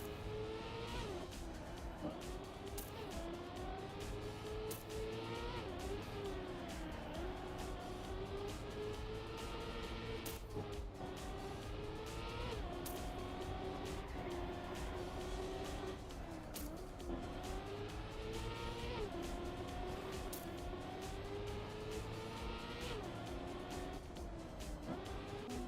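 Car engine and tires in the Trackmania racing game, a steady loud engine drone with rising and falling pitch sweeps as the car drifts through turns, continuous throughout with no talking.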